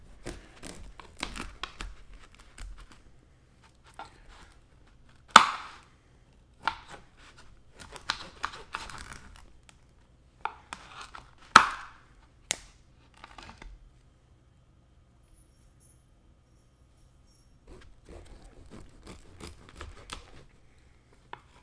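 A knife cuts open a crusty sourdough loaf, giving sparse, close crackles and crunches of the crust with quiet pauses between bursts and no talking.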